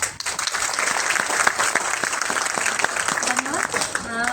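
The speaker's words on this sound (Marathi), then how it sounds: "आणि आभार व्यक्त करण्यासाठी आपलं माध्यम काय तर टाळ्या." Audience applause at a felicitation ceremony, a dense steady clatter of many hands clapping throughout, with a voice briefly audible near the end.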